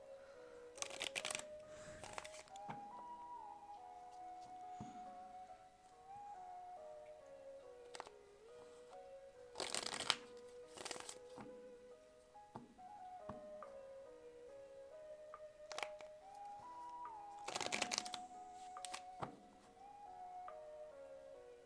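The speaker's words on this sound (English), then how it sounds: "I'm done shuffling" Tarot cards are shuffled in repeated bursts of fast riffling and flicking, close and crisp, over a soft sustained melodic tone.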